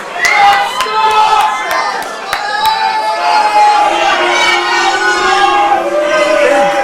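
A wrestling match crowd cheers and shouts loudly, with high excited voices and whoops rising and falling and sharp claps scattered through, while an announcer talks over the roar.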